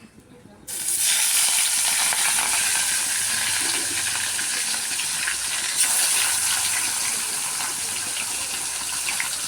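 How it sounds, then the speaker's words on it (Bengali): Pieces of katla fish hit hot oil in a pan and set off a sudden loud, continuous sizzle that holds steady and close, with a brief flare partway through and no talking. "এই তেল গরম হয়ে গেছে, একে একে ছেড়ে দেবো মাছগুলো।"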